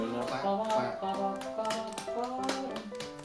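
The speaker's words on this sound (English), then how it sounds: "So clap, clap, tap, tap, tap, tap, tap, tap." A performer's freestyle clapping and tapping pattern, a quick rhythmic run of sharp hand claps and taps, loud and close, with strong musical tones running underneath.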